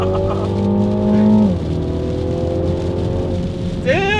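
A 2021 Mini John Cooper Works Clubman accelerates hard from inside the cabin, engine droning loud and steady, pitch climbing through a gear, briefly dropping at a shift, then rising again near the end.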